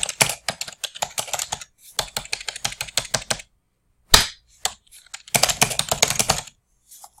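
Close, crisp keystrokes on a computer keyboard, coming in three quick bursts of rapid clicking separated by short pauses, with a few isolated taps in between; no talking.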